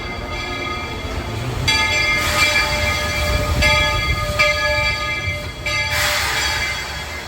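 The Walt Disney World Railroad train at Magic Kingdom rumbles steadily nearby, with bright ringing tones that rise and fall over the steady mechanical roar as it draws closer.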